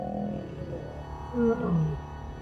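Lions fighting in Sabi Sand, with deep, throaty roars and snarls surging in a loud burst near the middle amid rumbling growls.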